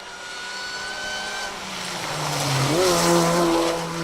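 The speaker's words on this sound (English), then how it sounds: "225, John Day, Russell Thompson in their BMW" A BMW rally car races along a forest rally stage, its engine loud and close with a rising, shifting tone and a tyre squeal toward the end, no voices heard.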